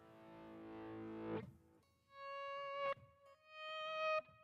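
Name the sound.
guitar distortion effect through amp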